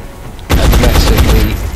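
Heavy-class soldier's massive gun firing in XCOM: Enemy Unknown, a loud, sustained burst of rapid automatic shots starting abruptly and rattling on without a break.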